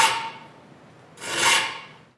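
A band saw blade being sharpened in a woodworking shop, with two separate bright rasping passes, the second louder, heard close up with no one talking.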